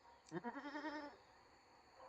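A Kiko goat doe on a farm lets out a single wavering bleat lasting under a second, moderately close and fairly quiet, followed by faint background noise.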